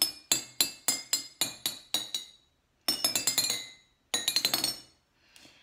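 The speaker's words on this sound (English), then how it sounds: "I'm hitting the bottles with the same amount of intensity." Glass bottles holding different water levels struck one after another with equal force, giving a bright sequence of ringing clinks, first a run of evenly spaced taps, then faster clustered groups, each pitch stepping lower.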